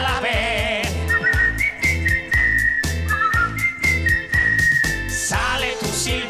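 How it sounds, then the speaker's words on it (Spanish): A clear whistled melody, sustained notes gliding between pitches, rides over a bouncy rhythmic musical backing with steady beats. "Sale tu silbido y ya no hay nada que temer."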